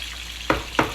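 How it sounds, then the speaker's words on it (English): Peppers and garlic fry in a pan with a continuous close sizzle, broken by two sharp bursts of crackling stirring in under a second. "this is going to cook for a few minutes, just like this with the garlic"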